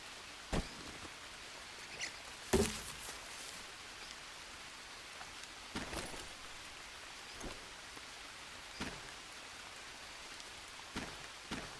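Steady rain in the video game Green Hell falls as soft, continuous hiss through the whole stretch. Occasional louder drops or gusts come every second or two, and there is no speech.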